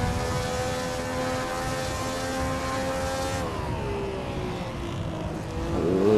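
A 1957 Formula 1 car races in the Assetto Corsa game at Buenos Aires, its engine holding a loud steady tone, then shifting down in pitch as it changes gear, with another rise at the end.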